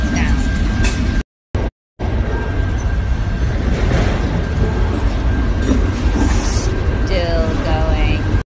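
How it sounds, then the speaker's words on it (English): A steady, loud rumble of a train passing nearby, with a constant tone and faint squeals, broken briefly by short gaps, with voices talking over it. "We've been waiting for this train to go by for like 15 minutes."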